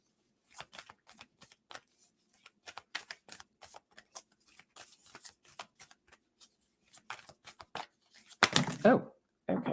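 Oracle cards are shuffled by hand in rapid, irregular bursts of papery riffles and flicks, ending in a louder flurry, with no speech over them.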